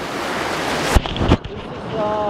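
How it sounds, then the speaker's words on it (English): Waves at Ölüdeniz beach in Turkey wash in a steady rush with wind buffeting the microphone, one wave breaking with a brief louder crash midway. "Look at the waves."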